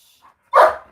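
A single dog bark rings out close and sharp after a brief faint yelp, the rest quiet.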